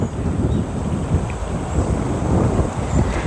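Strong wind at the shore buffets the microphone with loud, rumbling low gusts that surge and ease continuously, close and unsteady, with no voices heard.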